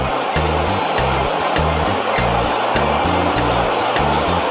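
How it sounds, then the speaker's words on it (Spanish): River water swirls in a deep whirlpool beside guadua bamboo rafts, a loud continuous rushing roar, with a rhythmic low thumping pattern running through it. "un remolino de agua."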